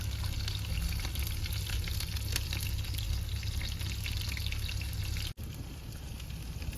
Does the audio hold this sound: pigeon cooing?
no